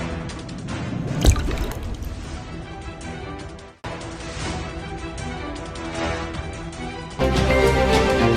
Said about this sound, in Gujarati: ગઈકાલથી સુરતમાં અતિ ભારે વરસાદ વરસી રહ્યો છે